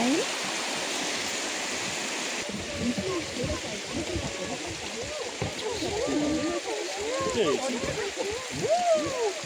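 A continuous rush and splash of a small cascade at Huanglong in Sichuan flows over golden travertine terraces, steady water noise with people's voices chattering over it through most of the stretch.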